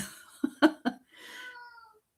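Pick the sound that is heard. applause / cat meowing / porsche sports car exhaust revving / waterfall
cat meowing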